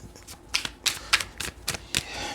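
Tarot cards being shuffled by hand, with a quick run of crisp papery riffles and snaps in an irregular rhythm, close and clear with no talking.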